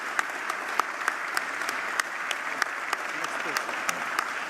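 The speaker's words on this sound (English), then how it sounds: "Please give a round of applause to Prashant Kumar Ghosh." An audience at a conference session applauds, a dense, steady wash of many clapping hands with sharper individual claps popping through, sustained at an even level throughout.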